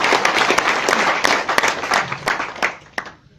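Loud, dense audience applause from a crowd at a business gathering in Jaipur, a steady wash of many hands clapping with a few sharper claps standing out, then thinning and fading away over the last half second.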